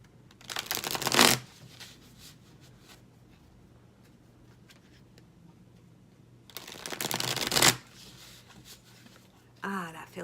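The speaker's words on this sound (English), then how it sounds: "I love shuffling a deck" A tarot card deck being shuffled in two loud, close riffling bursts separated by a quiet pause, with a shorter rustle at the end.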